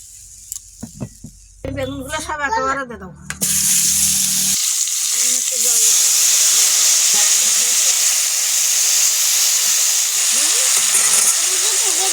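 Eggplant frying in a pan with oil, heard as a loud, steady sizzle that starts abruptly and carries on without a break, with a voice speaking briefly before it begins.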